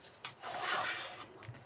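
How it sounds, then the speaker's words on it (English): Paper being scored for a handmade paper purse. One short, close rubbing scrape of a tool drawn along the sheet, soft and dry, with a faint tap at each end. "so let's score this up."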